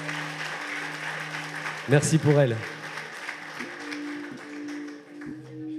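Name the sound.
audience applause for a pageant contestant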